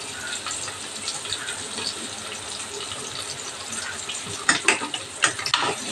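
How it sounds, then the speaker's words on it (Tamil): Onions and curry leaves sauté in oil with cumin for a broad-bean poriyal. A steady sizzling hiss continues throughout, and a burst of close stirring scrapes and clinks comes near the end. "வெங்காயம் நல்லா வதக்கட்டும்"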